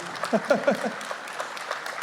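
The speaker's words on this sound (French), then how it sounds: "vous avez aussi les applaudissements, merci pour lui" Audience applause at a round-table conference on the Dordogne forest, a brief patter of clapping from a small group, fairly close and fading out within two seconds.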